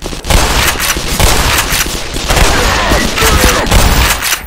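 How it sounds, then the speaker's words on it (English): Sustained loud gunfire from non-player characters in the Half-Life 2 joke mod Black Mesa, a dense rattle of rapid shots and bursts that keeps going without a break, with a voice faintly underneath. "What the fuck were they shooting at up there?"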